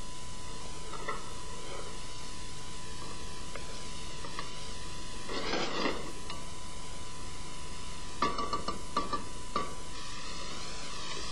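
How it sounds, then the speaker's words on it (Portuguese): Chopped onion softening gently in olive oil in a casserole pot, a steady low sizzle running throughout with occasional louder stirring scrapes and bursts of crackle, no voices. "e a cebola picada, deixando refogar ligeiramente."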